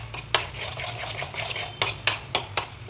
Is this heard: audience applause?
no